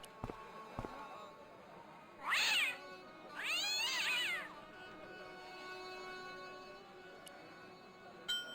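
A cat meowing in the video game Broken Sword, two drawn-out, clear meows close together, heard over faint background music with a few small clicks.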